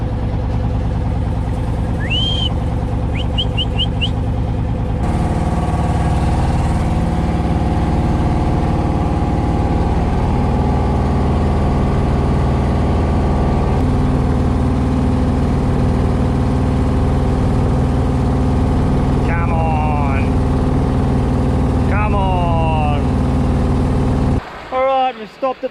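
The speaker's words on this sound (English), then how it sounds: "This boat's so noisy." A motorboat engine drones loudly and continuously at close range, a deep steady rumble with occasional high chirps and voices briefly breaking through near the end.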